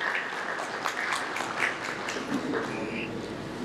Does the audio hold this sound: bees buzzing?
no